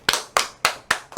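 Five sharp, evenly spaced claps ring out close and loud in a short burst of applause from children at a church Bible study.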